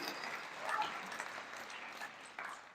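Faint applause rises and falls at a football banquet, scattered clapping from a modest crowd in a large room, distant and brief, with murmuring underneath.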